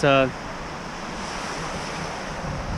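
Onshore surf rolls and washes steadily under an offshore breeze, a broad continuous roar with wind buffeting the microphone; a brief tonal sound opens the moment.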